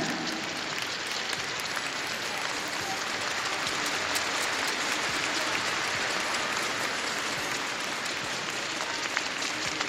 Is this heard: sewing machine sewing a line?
no